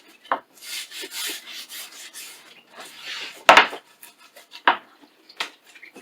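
Hand rubbing with an abrasive on the finish of a fluted wooden table, working into the grooves: soft intermittent scratchy strokes, with a few sharper knocks and scrapes of tool against wood, close up and without voices.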